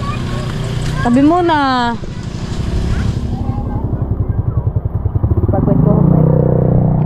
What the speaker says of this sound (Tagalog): Tabi, dali, may motor.